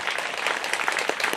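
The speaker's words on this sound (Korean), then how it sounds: "큰 박수로서 축하드립니다" Crowd at Cheonggyesa temple's citizen temple-food festival breaking into brief, full applause, a dense steady clatter of many hands.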